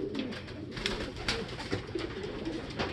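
Racing pigeons coo at the loft as a bird arrives, with repeated soft throaty calls close by over a steady low rumble of background noise.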